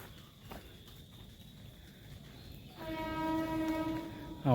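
A train rolls along the tracks behind a house in Mankara, Palakkad, heard from a distance as a low rumble, then a sustained horn blast rings out clearly in the last couple of seconds.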